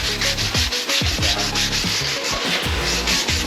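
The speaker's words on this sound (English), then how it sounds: "we're still sanding on this thing" Steady, rhythmic scraping of sandpaper rubbing back and forth over the body of a 1962 Mercury Monterey, close and continuous.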